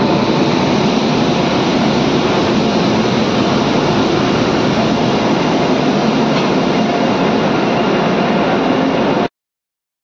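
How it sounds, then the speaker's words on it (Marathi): A train roars loudly and steadily at close range for several seconds at Pune railway station, a dense continuous rumble of wheels and engine that then cuts off. "आपले पुणे रेल्वे स्टेशनवरची रेल्वे आले बघा आता"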